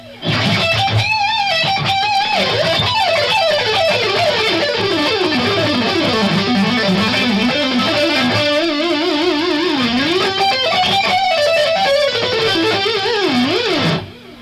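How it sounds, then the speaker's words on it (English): A loud electric guitar lead tone soaked in chorus and echo plays a sustained, bending melodic line with vibrato and fast runs, driven and continuous for the whole stretch with no talking. "real loud lead sound with chorus and echo on it."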